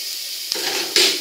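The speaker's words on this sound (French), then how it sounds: "On met dans la casserole, pas besoin de matière grasse, hein, les lardons suffisent eux-mêmes." Small matchstick bacon lardons sizzle in a saucepan with no added fat, a steady close crackle broken by two brief utensil knocks against the pan.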